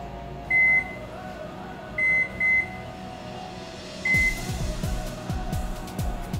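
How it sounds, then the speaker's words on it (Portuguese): A microwave oven cooking a chocolate cake gives several short beeps in a pair-and-single pattern over a low hum, then a louder rattling whir as it runs. "eu vou pedir para minha mãe colocar 3 minutos no micro-ondas"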